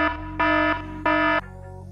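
An electronic alarm sound effect: two loud, even buzzing beeps in quick succession over a low hum, each about a third of a second, harsh and tonal.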